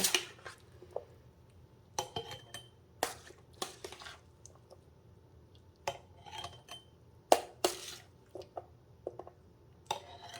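Homemade traditional salsa is spooned into mason jars, giving a series of separate wet squelches and sharp clinks of spoon against glass, spaced irregularly over quiet pauses.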